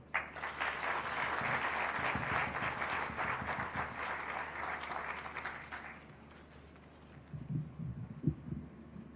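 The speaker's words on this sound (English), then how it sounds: "Let's appreciate our director with more heartier clap" Audience applause at a corporate anniversary celebration in Kenya, dense clapping for about six seconds that tapers off, with murmuring and brief voices afterward.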